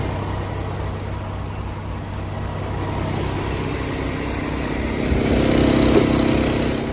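A 2019 Kenworth T680 day cab truck with an automatic transmission and a 455-horsepower Paccar engine idles steadily nearby, a low continuous diesel rumble that swells slightly toward the end, with no talking.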